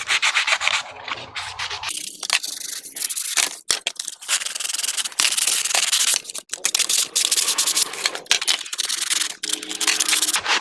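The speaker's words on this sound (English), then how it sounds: "So we're just going to sand the edge that gets glued here." Sandpaper rubbing against the edge of a plastic armor piece, loud and close, in repeated scratchy strokes with brief pauses between passes.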